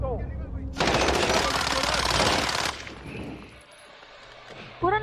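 Sustained automatic gunfire rattles loudly in a Call of Duty: Warzone match, a dense burst lasting a couple of seconds before dropping to quieter background rumble, with a voice talking at the edges.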